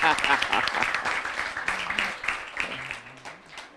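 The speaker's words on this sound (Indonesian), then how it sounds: "monggo tepuk tangan ya" Audience clapping greets a guest at a vocational high school event, starting strong and gradually tapering off, with voices talking over the fading applause.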